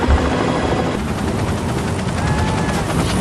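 Steady loud rotor and engine roar of a helicopter flying overhead, a constant dense rumble with no voices.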